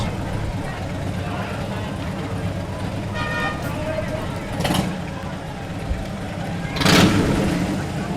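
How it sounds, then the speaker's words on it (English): Harley-Davidson motorcycles pass in a hometown celebration parade in Hartland, a steady low engine rumble with a couple of louder swells and a horn toot, over continuous outdoor crowd noise. "Harleys."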